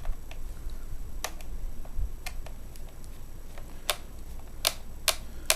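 A small screwdriver turns a screw out of an HP Pavilion g7 laptop, giving sparse, sharp little ticks and clicks against a quiet background hiss, close by and with no speech.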